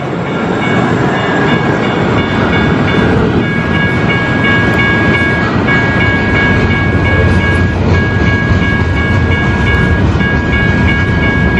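Train rolling past in a Portland neighborhood, a loud continuous rumble with wheel clatter and a steady high tonal squeal, close and sustained for the whole stretch.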